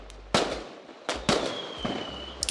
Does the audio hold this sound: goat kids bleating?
no